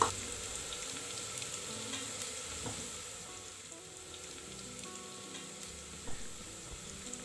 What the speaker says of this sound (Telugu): తర్వాత టమాటా ముక్కలు వేసుకోవాలి. బాగా వేగనివ్వాలి.